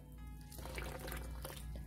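Fresh soy milk pours from a soymilk machine's spout in a soft, continuous liquid rush, quiet and close, with no one talking.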